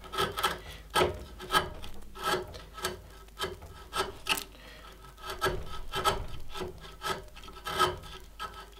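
A fishtail wood chisel pares wood deep in the corners of a joint, producing repeated close scraping and rasping strokes in an irregular rhythm, with no voices.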